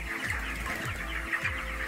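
Twenty-eight-day-old broiler chickens cluck and chatter in a poultry shed, a dense, continuous chorus of many birds close by over a steady low hum.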